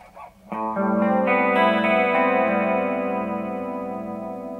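Electric guitar chords ring out through a Guyatone MCm5 modulation pedal with depth at maximum, a warbling, swirling effect, sustaining and slowly fading with a shimmering, wavering tone.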